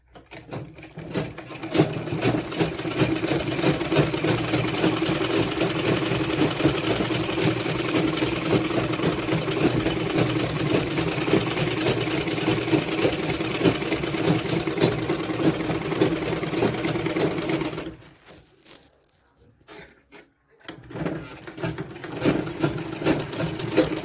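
A sewing machine runs steadily and loudly while double-stitching the sleeve of a lined blouse, then pauses briefly and resumes.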